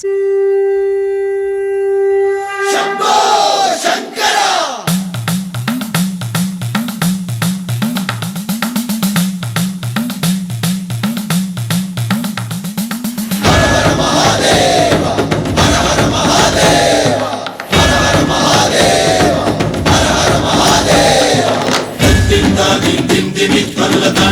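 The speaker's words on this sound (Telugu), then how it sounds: "గట్టిగా మా హర్షబాబుకు చప్పట్లు." An audience at the closing event of a music school's summer camp claps and cheers loudly and steadily for over twenty seconds, the crowd noise swelling near the midpoint, with a held drone-like musical tone at the very start.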